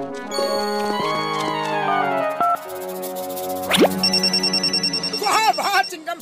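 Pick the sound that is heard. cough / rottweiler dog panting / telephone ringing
telephone ringing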